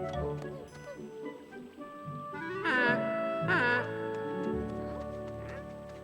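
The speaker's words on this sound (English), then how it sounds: "What's that sound? A mother goose, Eddie." A Fisher-Price Little People toy plays a mother goose honking: two bright, nasal honks close together midway through, over the toy's soft background music.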